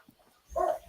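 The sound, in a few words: dogs barking indoors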